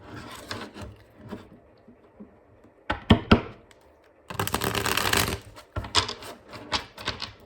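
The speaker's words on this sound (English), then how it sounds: "they want me to shuffle" A deck of cards being shuffled, quick crisp rattling bursts of riffling and tapping separated by short pauses, close and fairly loud.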